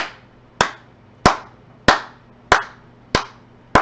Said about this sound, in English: Those are some good claps right there, son.